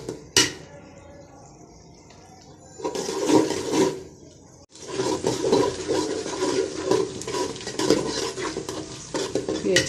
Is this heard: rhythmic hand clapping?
no